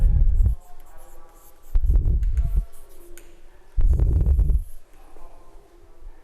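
A pen writes out a chart of functions and derivatives in three distinct scratchy bursts separated by short pauses, close and fairly loud, with no talking.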